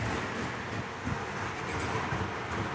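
A model train runs along its track, giving a steady, continuous rumble and rattle at an even level throughout, with no voices.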